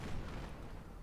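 Tank gunfire in World of Tanks from an M2 light tank battle: a continuous loud rumble of booms and blasts with no clearly separated shots, no voices.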